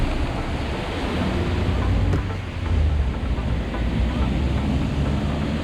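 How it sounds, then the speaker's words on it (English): Loud, continuous rush of surf in rain, with water surging and splashing up near a rail, a brief sharp slap partway through, under a wind-blown background. "There's still water splashing up."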